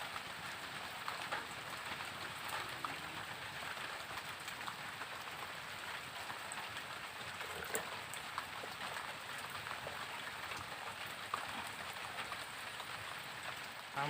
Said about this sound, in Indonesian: Tambah deras aja bro, hujannya tapi tetap mancing.